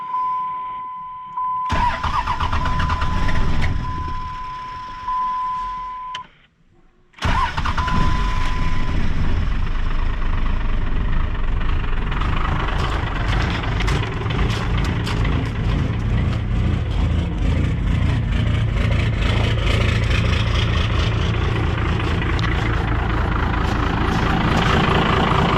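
A Cummins 12-valve diesel with a VGT turbo cranks with a whining starter, pauses briefly, then catches and settles into a loud, steady, clattering idle.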